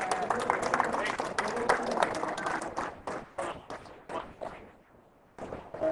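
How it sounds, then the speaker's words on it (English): Studio audience applause welcoming a guest: a thick burst of clapping that thins into scattered separate claps, dies away near the end, then picks up briefly. "Let's give a big round of applause for Matt,"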